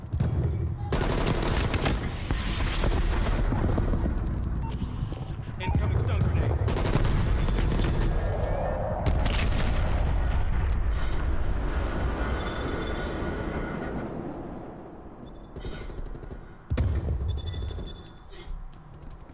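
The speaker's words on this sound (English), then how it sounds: "Artillery inbound." Artillery strike explosions in Call of Duty Cold War multiplayer pound through a loud, continuous wash of gunfire and rumbling blasts, with sharp cracks scattered throughout and voices mixed underneath.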